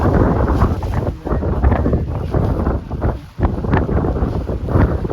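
Strong wind buffets the microphone at a cold, sunny surfing and kitesurfing beach, a loud, continuous roar that dips briefly twice, with no talk over it.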